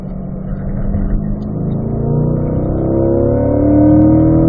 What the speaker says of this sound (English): Turn 9, we'll downshift to 3rd gear.